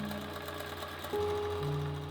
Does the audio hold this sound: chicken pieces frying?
no